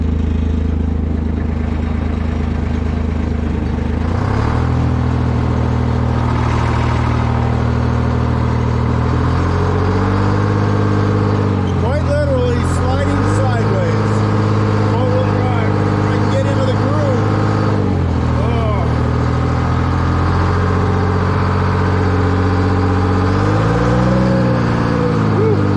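Forklift engine running in mud at a depot, a loud droning motor that rises and falls in pitch as it revs while the machine slides, with someone talking over it for much of the time.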